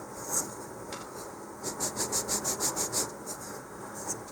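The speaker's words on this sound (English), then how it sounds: "I'm just going to use the finer sandpaper now to square up the other edges" Fine sandpaper rubbed along the edges of a model rocket fin in a quick, steady back-and-forth rhythm, about a dozen soft close strokes with scattered slower scrapes before and after.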